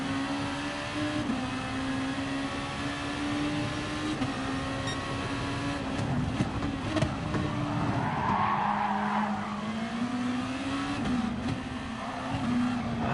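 Race car tires squeal and skid in a racing video game as the rear end slides under power, a long sustained screech over a droning engine tone that shifts pitch as the car loses and regains traction.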